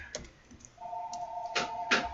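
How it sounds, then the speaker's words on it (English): Light keyboard taps come in short irregular bursts while a search is typed into an Android app, with a faint steady electronic tone running beneath the later keystrokes. "I'm typing"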